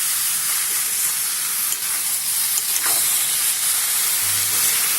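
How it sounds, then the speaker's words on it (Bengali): Rice and dal are stirred and fried together with winter vegetables for khichdi, a loud steady hissing sizzle close by with occasional soft scrapes of the spoon. "চালটা আর ডালটা দিয়ে ভালো করে আমি মিশিয়ে নিলাম সবজির সাথে"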